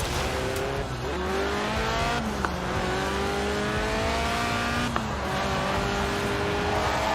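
A Lotus Elise Sport 190 with a 1.8-litre engine revving toward 8,000 RPM in Forza Horizon 4, loud and close, its pitch climbing and dropping through gear changes with brief tire squeal.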